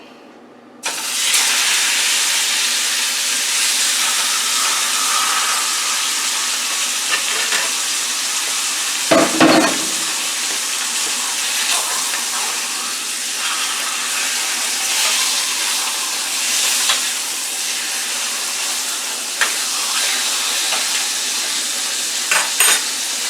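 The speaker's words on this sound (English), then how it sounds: "I have in here about 2 tablespoons of butter in the frying pan" Butter sizzles and crackles steadily in a pan, a continuous hiss with a brief scrape partway through.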